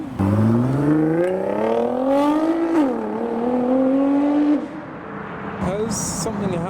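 A modified Nissan GTR at a busy street car meet revs hard, its engine note climbing steadily before cutting off into a sharp exhaust pop, loud and close amid the crowd.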